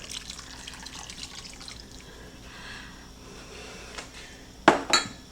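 Cornstarch slurry pours back into a crock pot of French onion chicken, a soft wet splash with a couple of sharper clinks of utensil against the pot at the end.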